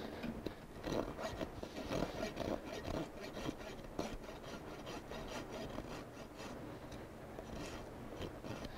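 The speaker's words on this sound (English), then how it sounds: "I'm just going to rasp on that." A rasp files down the hoof of a miniature horse with severe hoof distortions, giving repeated close, gritty scraping strokes in a steady rhythm.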